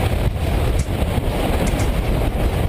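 Strong wind from a gust front roars loudly and continuously across the microphone, a dense rumbling buffet with slight surges and no voices.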